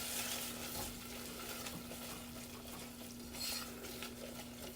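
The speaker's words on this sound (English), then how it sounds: "Stir in here." A spoon stirs vanilla extract into rice pudding in a pot on the stove, soft steady scraping and swishing over a low simmering hiss, close and fairly quiet.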